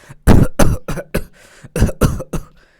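A burst of repeated coughs, about eight sharp hacking coughs in quick succession, close and loud, with brief pauses between.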